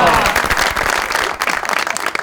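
Loud, dense studio audience applause on a comedy talk show, a sustained roar of clapping close up with a few cheers, tapering slightly toward the end.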